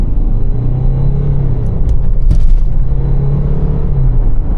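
A Mercedes W212 E250 CDI 4MATIC diesel pulls away from a standstill on rough asphalt, its low engine rumble swelling and easing steadily through the whole stretch, heard close from inside the car.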